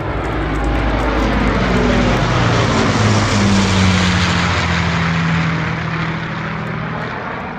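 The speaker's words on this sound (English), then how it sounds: "This is a Lancaster bomber coming over the show." A Lancaster bomber flying over an agricultural show near Newark, its propeller engines producing a loud, continuous droning roar with a steady low hum that swells and fades slightly as it passes, with no talking.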